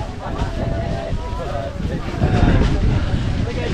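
Strong wind blows across the Vagamon hilltop, roaring and buffeting the microphone in a continuous low rumble while a person talks.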